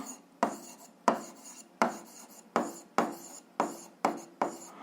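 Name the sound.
writing down an equation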